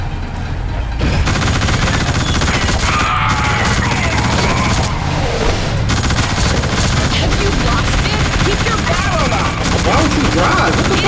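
A shootout in the video game The Suffering 2, with dense, continuous rapid gunfire in loud bursts, mixed with clatter and voices talking over the fight.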